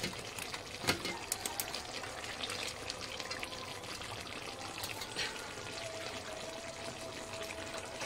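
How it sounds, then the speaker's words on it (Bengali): Saffron-soaked milk poured into a pot of jackfruit biryani layered with rice, a soft liquid trickle and splash with a few light clinks, quiet against faint background noise. "এখানে দেওয়ার দরকার এই কেশর আর দুধ মাঝখানে একটু দিয়ে দিলাম"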